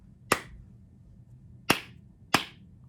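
Three crisp hand claps beat out a slow rhythm with a long gap after the first, close and clear in a quiet room.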